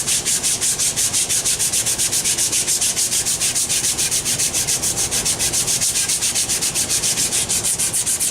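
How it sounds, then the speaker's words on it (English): Steady, rhythmic rasp of 80-grit sandpaper rubbed back and forth over a rubbery 15kV cable jacket, quick even strokes continuing throughout with no talking. "You will use 80 grit sandpaper while doing this sanding on the jacket"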